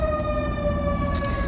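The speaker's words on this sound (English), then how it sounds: "the one time I decided to do a video outside, there's going to be sirens." Emergency vehicle sirens sound outdoors, a steady wailing tone holding throughout at moderate distance, with a brief brighter burst near the end.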